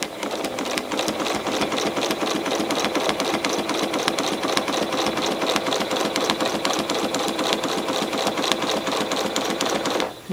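A sewing machine stitches continuous curves on a grid-quilted quilt, a steady rapid mechanical chatter running close and unbroken for about ten seconds before stopping abruptly at the end.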